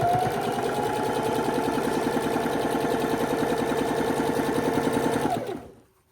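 A sewing machine runs in one fast, even burst, stitching a quarter-inch seam through quilt blocks, then slows and stops near the end.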